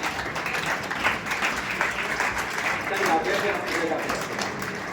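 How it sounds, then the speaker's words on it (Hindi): An audience at a get-together claps in sustained applause, a dense steady patter of many hands that continues for several seconds. "तो ये इनके लिए एक बार फिर आप तालियां बजा दीजिए"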